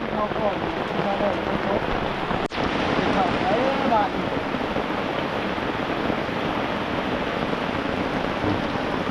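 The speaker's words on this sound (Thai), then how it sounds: "แต่ฝนตกมานะ" Heavy rain pours steadily in a forest, a dense continuous hiss on leaves and ground that fills the whole stretch, close and loud, with a brief dropout midway.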